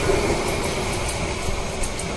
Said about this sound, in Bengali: তো কুড়িগ্রাম এক্সপ্রেস 798 গ্রাউন্ড ট্র্যাকে চলছে।